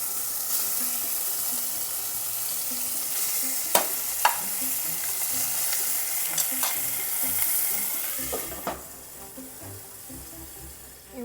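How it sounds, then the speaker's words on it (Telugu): Steamed chicken roasting in a hot pan for Arabian Mandi, a steady close sizzle and crackle broken by a few sharp scraping stirs and turns, with no voices. "స్టీమ్ చేసి పెట్టుకున్న చికెన్ని దీనిలో జస్ట్ రోస్ట్ చేసుకుందాం అంతే"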